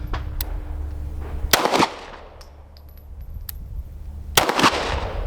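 Pistol shots from a Canik Mete MC9 or Hellcat Pro at a shooting range, a few sharp loud cracks spaced irregularly, including a close pair at the end, with no talk over them.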